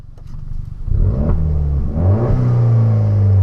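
A 203 hp Citroen DS3 Racing engine revs up from a low idle rumble into a loud, rising growl with a short clatter, heard close and alone over about three and a half seconds.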